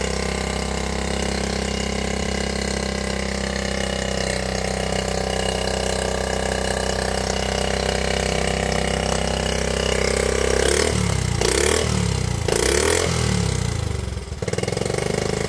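A 1972 Honda Z50 mini trail bike, just started after two years in storage, idles steadily and loudly up close, then blips its throttle in a few short revs near the end.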